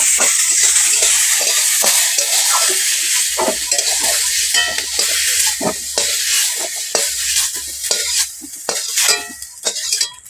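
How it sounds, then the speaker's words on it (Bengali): Loud, continuous sizzling of fish and gram-flour koftas frying in hot oil in a wok, with repeated scraping and clinks of a spatula against the pan throughout. "এটা আমার ভাজা হয়ে এসেছে, এবার আমি কড়া থেকে তুলে নেব"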